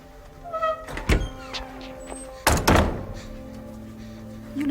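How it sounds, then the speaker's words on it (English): An interior door in a radio drama closes with a solid thunk. A second heavy thud follows, with faint movement and room noise between them. "Close the door, please."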